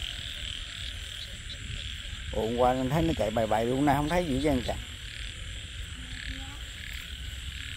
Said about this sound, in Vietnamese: Giờ này có ếch kiều đó, 7 giờ mấy rồi ếch kiều rồi.